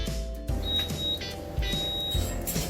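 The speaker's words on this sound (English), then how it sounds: "Okay, so the timer went off." A PC cooking blender's timer beeps in a steady repeating pattern of high electronic tones, each beep paired with a low thump, over a constant loud machine hum during red hot cinnamon applesauce cooking.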